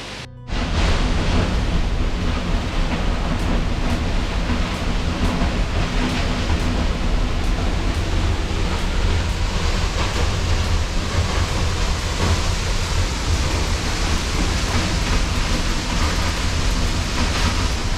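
A waterfall in Dagestan roars as a dense, constant rush of falling water, loud and close, steady for the whole stretch with no voices.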